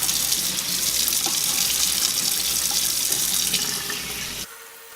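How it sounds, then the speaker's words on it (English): Lukewarm water runs steadily from a sink tap while type 4B hair is rinsed beneath it, a loud, continuous rushing stream that cuts off abruptly near the end. "rinsing my hair out with lukewarm water"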